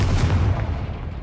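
A Confringo spell explosion in the Hogwarts Legacy video game, a single short, deep boom that fades out quickly, heard on its own.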